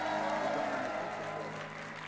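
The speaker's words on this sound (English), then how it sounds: "great big applause." A church congregation applauds its Girl Scouts and Brownie Scouts with steady, dense clapping that stays full and even throughout, fading only slightly toward the end.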